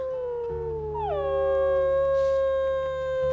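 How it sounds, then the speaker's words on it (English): A wolf in the video game WolfQuest lets out a long, steady howl that dips slightly in pitch partway through, sounding over a low ambient game hum. "We can hear Cole's adorable howl."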